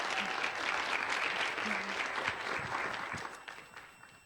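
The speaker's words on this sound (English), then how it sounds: "Can we give him a round of applause real quick?" Steady applause from an audience at a legal education session, a dense wash of clapping that holds for several seconds and then starts to thin out toward the end.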